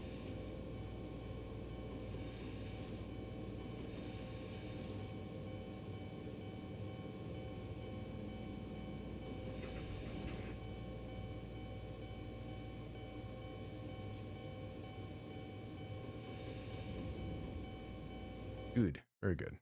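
Train running in a Japanese rail simulator video game, a steady low rumble of motor and rolling wheels throughout with faint cab tones, ending in an abrupt clunk.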